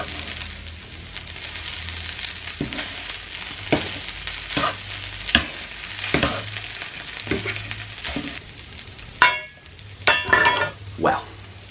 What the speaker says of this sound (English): Let me stir the rice around just a little more